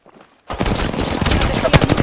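Rapid gunfire in a first-person battle royale shooter, Apex Legends, breaking out suddenly after a near-silent moment and continuing as loud, dense bursts of shots with occasional sharper impacts.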